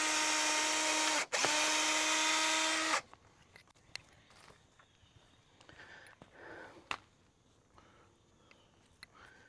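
A power drill boring holes in wood for a sawhorse spins loudly for a few seconds with a brief pause, then stops, leaving quiet rustling and faint handling noises.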